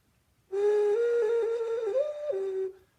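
A ceramic pinch-pot whistle blown for about two seconds: a clear, breathy, fairly pure tone that starts suddenly, wavers and steps up and down in pitch, then stops cleanly, heard alone in a quiet room.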